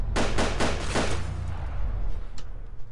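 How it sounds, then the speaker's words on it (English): Rapid bursts of loud gunfire in DayZ crackle in a quick volley, then fade into a sustained rumbling din with a few faint distant shots. "Ah, gunfire!"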